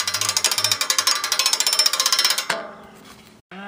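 Heavy ratcheting clatter from a hand-cranked tower loaded with heavy antennas, a fast regular train of metallic clicks that stops abruptly, leaving a fading ring and a short burst of noise.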